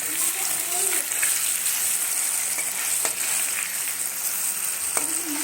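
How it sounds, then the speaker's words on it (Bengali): Paneer fries in hot oil seasoned with salt and turmeric, giving a continuous close hissing sizzle with a few light clinks and stirring scrapes. "পনির আগে ভেজে নেব। তেলের মধ্যে একটু নুন আর হলুদ দিয়ে দিয়েছি।"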